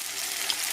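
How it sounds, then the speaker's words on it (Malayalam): Bitter gourd fries in hot oil over a full flame, giving a dense, continuous sizzle that is close and even for a brief moment, with no voices. "അപ്പം ഫുൾ ഫ്ലെയിമിൽ കിടന്ന് ഇത് വറുത്തെടുക്കട്ടെ, വറവട്ടെ"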